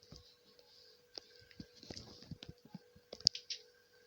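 Scattered light clicks of buttons being pressed somewhere inside a village house, faint and irregular, with soft taps and a few sharper clicks.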